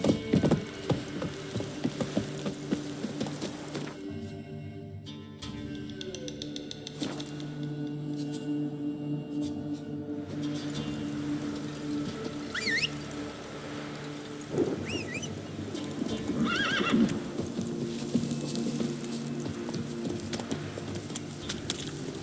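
Steady galloping hooves of the horse Roach in the video game The Witcher, a continuous rhythmic clatter under game music and ambient noise.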